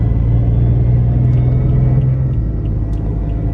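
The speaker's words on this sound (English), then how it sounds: "I gotta hit the gas" A BMW M4 accelerates onto the highway, its engine rumbling as a loud steady drone from inside the car, dipping slightly toward the end.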